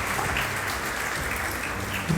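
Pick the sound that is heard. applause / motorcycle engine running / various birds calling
applause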